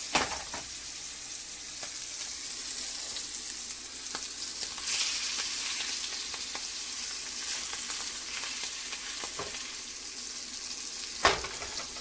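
Potatoes fry in a hot pan with a continuous crackling sizzle, close and steady, broken by a few sharper pops and stirring clicks.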